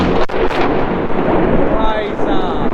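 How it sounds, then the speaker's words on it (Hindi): Thunder from lightning during a rainstorm rumbles loudly and close with a sharp crack at the start, broad and rolling, over steady rain noise; voices talk faintly in the background. "पहले बिजली कड़की, ऐसा लगा यहीं गिरी सोसाइटी में"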